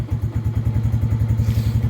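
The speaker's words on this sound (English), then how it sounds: "yank it on, it stalls" Cold Lifan King motorbike engine running rough in rapid, uneven chugging pulses, close and steady, as it struggles and stalls.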